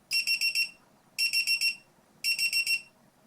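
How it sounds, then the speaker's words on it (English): Three bursts of rapid electronic beeping from a Divoom Pixoo 64 pixel display timer, four quick high beeps per burst, evenly spaced with short silences between, loud and clear with no talking. "And it'll beep once it goes off."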